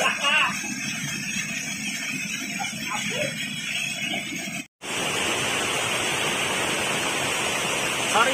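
The Curug Cipadayungan waterfall in Sumedang rushes as a steady, loud roar of broadband water noise. It is briefly cut off midway and then continues more strongly, with faint voices in the earlier part.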